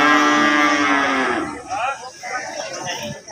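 Bulls on a farm being gathered for sacrifice moo in one long, loud, drawn-out call that fades into softer background noise and brief voices.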